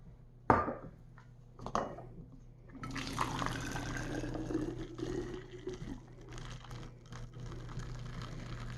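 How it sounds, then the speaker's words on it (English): Hot water is poured from a kettle into a container in a kitchen science demonstration. A couple of sharp clinks come first, then a soft, steady, faint splashing pour runs for several seconds. "Added the hot water."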